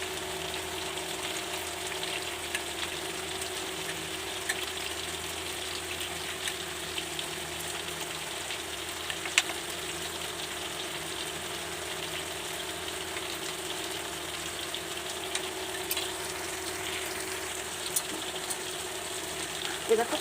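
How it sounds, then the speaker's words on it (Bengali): Pumpkin pieces fry in a pan for a long stretch, a soft, steady sizzle with occasional small pops and clicks, moderately close and unbroken by talk. "এবার তো কুমড়োগুলো ভাজা হয়ে গেছে"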